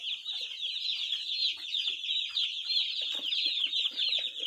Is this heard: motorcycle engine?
no